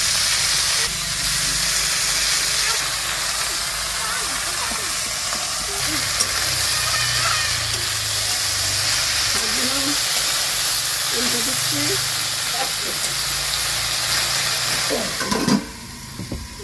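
Leafy greens hitting tempered spices and chilli in hot oil, giving a loud, continuous hiss and sizzle with faint stirring underneath, ending with a brief clatter.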